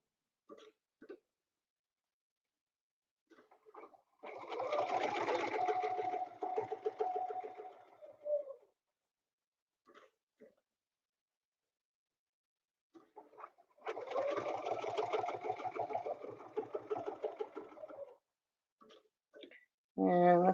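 A sewing machine stitches along a quilting template in two sustained runs of rapid, rhythmic needle clatter separated by quiet pauses, with a few soft handling noises between and speech breaking in at the very end.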